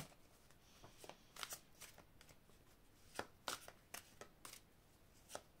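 Angel oracle cards being shuffled and drawn, giving a series of quiet, crisp riffles and flicks in irregular bursts, close but faint, with no talk.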